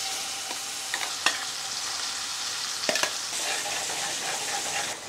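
Gongura (sorrel) leaves fry in a hot pan, a steady close sizzle broken by a few sharp scrapes of a spoon stirring the leaves.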